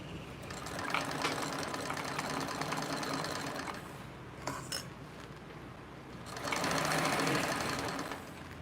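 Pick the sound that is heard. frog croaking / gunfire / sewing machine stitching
sewing machine stitching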